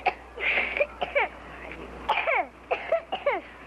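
A young boy coughs in short bursts, two or three at a time, repeated through the moment, fairly close and clear in a quiet room.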